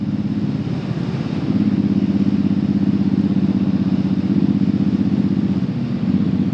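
A Suzuki Boulevard M109R motorcycle engine running steadily, a loud, close, deep throbbing rumble that holds a constant pulse with a slight rise after the first second and no voices.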